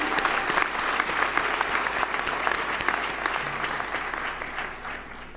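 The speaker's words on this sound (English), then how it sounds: "Let us give them a round of applause." A graduation ceremony audience at the University of Johannesburg gives a round of applause: dense, sustained clapping from a large crowd that fades slightly toward the end.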